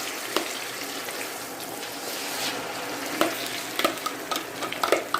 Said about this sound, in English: the oil is very, very hot now, and we shall be adding our soggy plantain